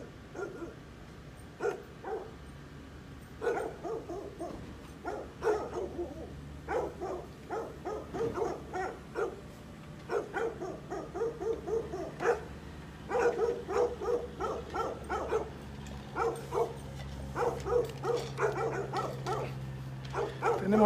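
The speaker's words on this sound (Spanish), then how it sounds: "Hay un grupo de perritos ahí que no nos dejan hacer nuestro trabajo" A group of dogs barks outdoors at a crime scene where police are collecting evidence, with repeated yapping barks in irregular bursts that grow denser toward the end over a low background hum.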